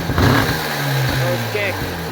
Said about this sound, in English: This thing fires right up.